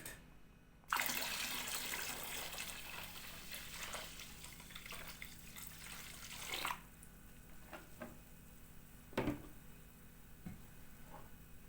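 Grape vinegar, about three kilos, pours into a pot of boiled water for pickling: a steady splashing, gurgling stream lasting several seconds, then scattered drips and clinks.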